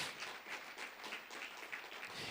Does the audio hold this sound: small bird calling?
no